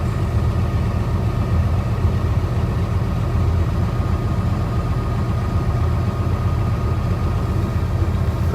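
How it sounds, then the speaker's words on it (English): A Kenworth truck stuck in deep snow spins its tires, its engine droning in a steady, loud, low rumble with no break. "Don't take out the nose of that Kenworth next to you. Man, he is just spinning his tires."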